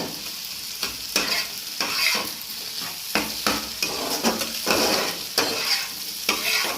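Potato and egg fried in a pan, a constant sizzle broken by frequent scraping, knocking stirs of a spatula, close and steady with no talking.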